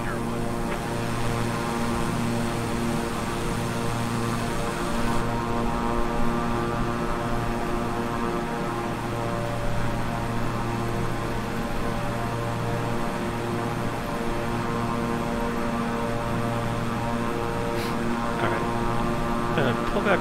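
Twin-engine King Air 350i turboprop levelling off on an Orlando to Jacksonville flight in Microsoft Flight Simulator, giving a steady, even cabin drone with a constant engine hum and no pauses.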